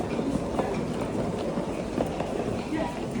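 Steady rumble of an Indian metro train running along the track, with low rolling noise and faint clatter throughout, voices murmuring underneath.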